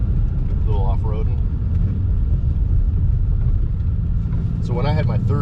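A 2020 Ford Mustang Shelby GT500 rumbles steadily close by while being driven off-road, a dense low engine drone running throughout, with people talking briefly over it at the start and end.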